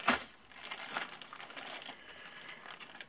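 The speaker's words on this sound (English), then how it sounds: "My plastic bag with my flosses and stuff in it for dragons." A plastic bag holding embroidery flosses crinkles and rustles up close, with a sharp crackle at the start followed by steady soft crinkling throughout.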